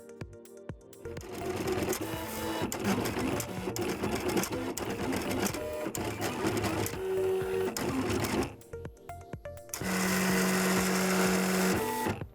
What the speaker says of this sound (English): load it into your cutter in the same orientation as shown in the cutting software